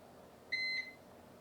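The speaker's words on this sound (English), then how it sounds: "the alarm is saying patient temp, that the patient's temperature is too cold" A Panda infant warmer sounds a low-temperature patient alarm: one steady, close electronic tone held for about a quarter second, stacked in clean harmonics, over a quiet room hum.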